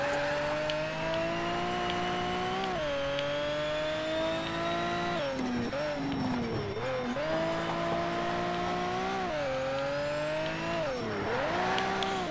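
Race car engine in the video game Shift 2 Unleashed, a loud sustained roar that rises and falls as the car revs, drifts and shifts gears, with bursts of tire squeal, continuous and close throughout.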